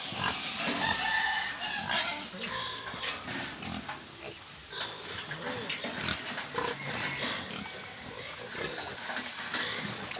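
Mother pigs for sale at a livestock market grunt repeatedly, close and loud. Chickens cluck and roosters crow nearby, and people talk in the background.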